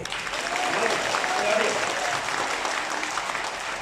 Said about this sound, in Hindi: और ताली तो बजा दीजिए भैया।